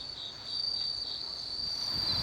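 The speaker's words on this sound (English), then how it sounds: "people flock to this garden just to listen to the insect chorus." An autumn insect chorus fills a Japanese garden: a steady, shrill cricket trill runs continuously and evenly throughout, with no voices.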